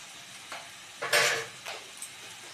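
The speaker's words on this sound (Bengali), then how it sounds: "এবার এই মশলাগুলোকে আমি সব ভালোভাবে কষিয়ে নেব।" Spices with vegetable masala are stir-fried in a pan, a soft steady sizzle broken by a few scraping strokes of a spatula, one louder sweep in the middle, close and without talk.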